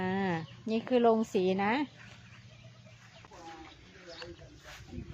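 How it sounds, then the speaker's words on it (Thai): Chickens cluck faintly in a coop on a rural farm plot, soft and scattered in the background while someone talks over them near the start. "คอกไก่จ้า"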